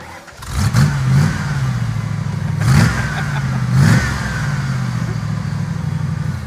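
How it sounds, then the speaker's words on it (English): An off-road built Ford LTD with a front-mounted muffler revs its engine in three short bursts over a steady low idle, each blip rising and falling quickly, fairly loud and close with no talk. "That's the quietest, like, front muffler mounted car I've ever heard in my life."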